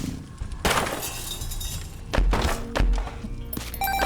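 A troll bomb goes off in The Binding of Isaac: Repentance: sharp thuds with glassy, crunching bursts, two heavy impacts in quick succession over steady game music, loud and close.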